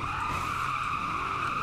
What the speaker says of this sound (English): We got grip tires on, but we're still drifting out here